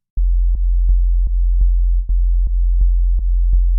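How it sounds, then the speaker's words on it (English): A deep, steady sine-wave sub bass from Ableton's Operator synth drones continuously, with soft clicks marking a regular pulse of notes, nothing else playing. "we'll just get a sine wave in the sub-region"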